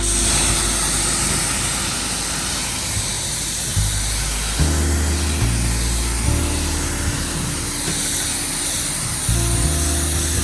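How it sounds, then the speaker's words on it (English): Pressure-washer spray rinsing soap off a ceramic-coated car, a steady loud hiss of water with a low motor hum underneath, continuous throughout with no talking. "We're gonna go ahead and wash this soap away. We're gonna rinse it off."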